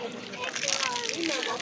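Water poured out and sloshing in a home during household chores, a short steady wash of splashing and gurgling, close and moderately loud.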